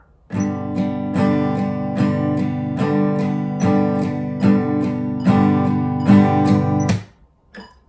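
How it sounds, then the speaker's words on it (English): An acoustic guitar strummed in a steady, even up-and-down rhythm, about two strums per second, with the last chord ringing out before it stops. "a steady up-down along with the beat to your metronome would sound like this"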